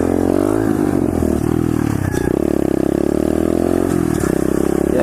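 A small pit bike engine roars loudly and close, holding a steady buzzing drone with a rattle of clatter and scrape as it rides along a sidewalk.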